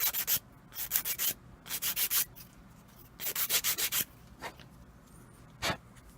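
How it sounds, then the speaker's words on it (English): A sanding pad rubs a wooden dowel in quick bursts of scratchy back-and-forth strokes, grouped in clusters with short pauses between them. The sound is close and fairly quiet, with a single stroke near the end. "I'm just going to sand this a little bit until the dowel actually slides in without too much of a force."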